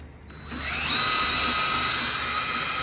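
A power drill spins up during an overhaul of a John Deere 9520 tractor, its high whine rising in pitch and then holding as a loud, steady drone close by.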